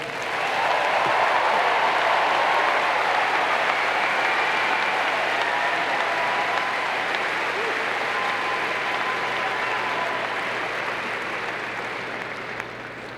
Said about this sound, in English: Please clap for those names.